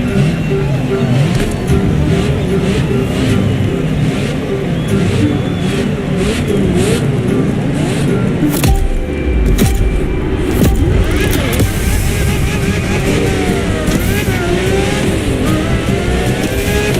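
A Ferrari race car with covered wheels in the driving game The Crew Motorfest roars continuously, its engine revving up and down as it drives at speed, loud and close, while a voice talks over it.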